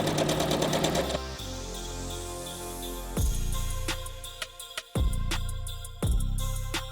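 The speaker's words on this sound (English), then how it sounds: "I am sewing a straight line from corner to corner on both sides of the line." Sewing machine stitching a seam on a holiday table runner runs in bursts, a fast, rhythmic mechanical whir that starts and stops several times, with brief pauses and clicks between runs.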